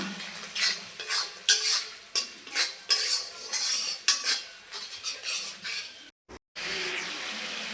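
Spice masala with salt sautéing in a pan for a potato and egg curry, with a utensil scraping and clinking against the pan in repeated strokes over a soft, close sizzle.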